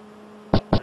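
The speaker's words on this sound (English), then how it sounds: "The screw capping head." A screw capping head on an oil bottle capping machine gives two short, loud mechanical bursts about a fifth of a second apart, over a low steady machine hum.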